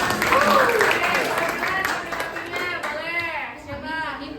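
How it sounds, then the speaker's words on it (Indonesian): Clapping for a presenter at a training session on Canva AI, moderately loud and fading slightly, with several voices, including a child-like one, talking over it. "Tepuk tangan dong buat Anissa."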